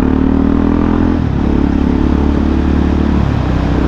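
A new motorcycle's engine runs steadily and loudly throughout, a continuous low mechanical hum with a slight shift in tone partway through, with no voices over it.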